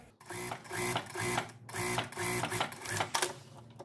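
A sewing machine stitching a 0.5 cm seam allowance on lace wide-leg trousers, running in steady mechanical bursts with short pauses between them, no voices.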